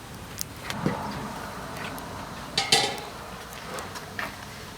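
Noodles are stirred in a pot of boiling water, with a utensil clinking and scraping against the pot in scattered, fairly quiet knocks over a low background hiss.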